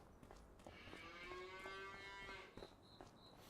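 One cow in a barn in Farming Simulator 25 gives a long, clear moo lasting about two seconds, rising and then fading. Faint clicks and higher tones surround it, and no one speaks.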